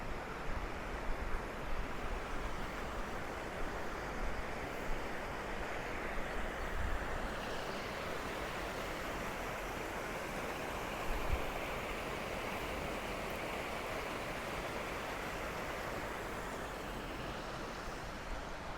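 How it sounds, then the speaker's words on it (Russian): A river flows with a steady, even rush of water, moderately loud and unbroken, with no voices over it. "О, речка какая-то."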